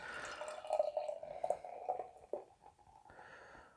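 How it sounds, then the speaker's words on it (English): Dancing Gnome Orbital Convoy double IPA being poured, a close, gurgling liquid stream with dripping splashes that swells and eases over a few seconds, fairly quiet and alone. "Give it a proper pour here"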